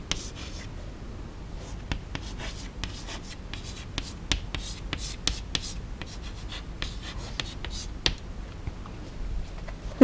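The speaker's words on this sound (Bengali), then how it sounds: "আমি বোর্ডে লিখছি, সবাই পড়ো কি লিখছি।" Writing on a classroom board makes a steady stream of tapping and scraping strokes over a noisy room background, continuing throughout without a pause.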